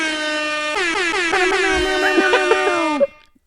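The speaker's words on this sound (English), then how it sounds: "Okay, I got an air horn." A loud, brassy air horn blares continuously for about three seconds, its tone wavering and bending before cutting off abruptly into silence.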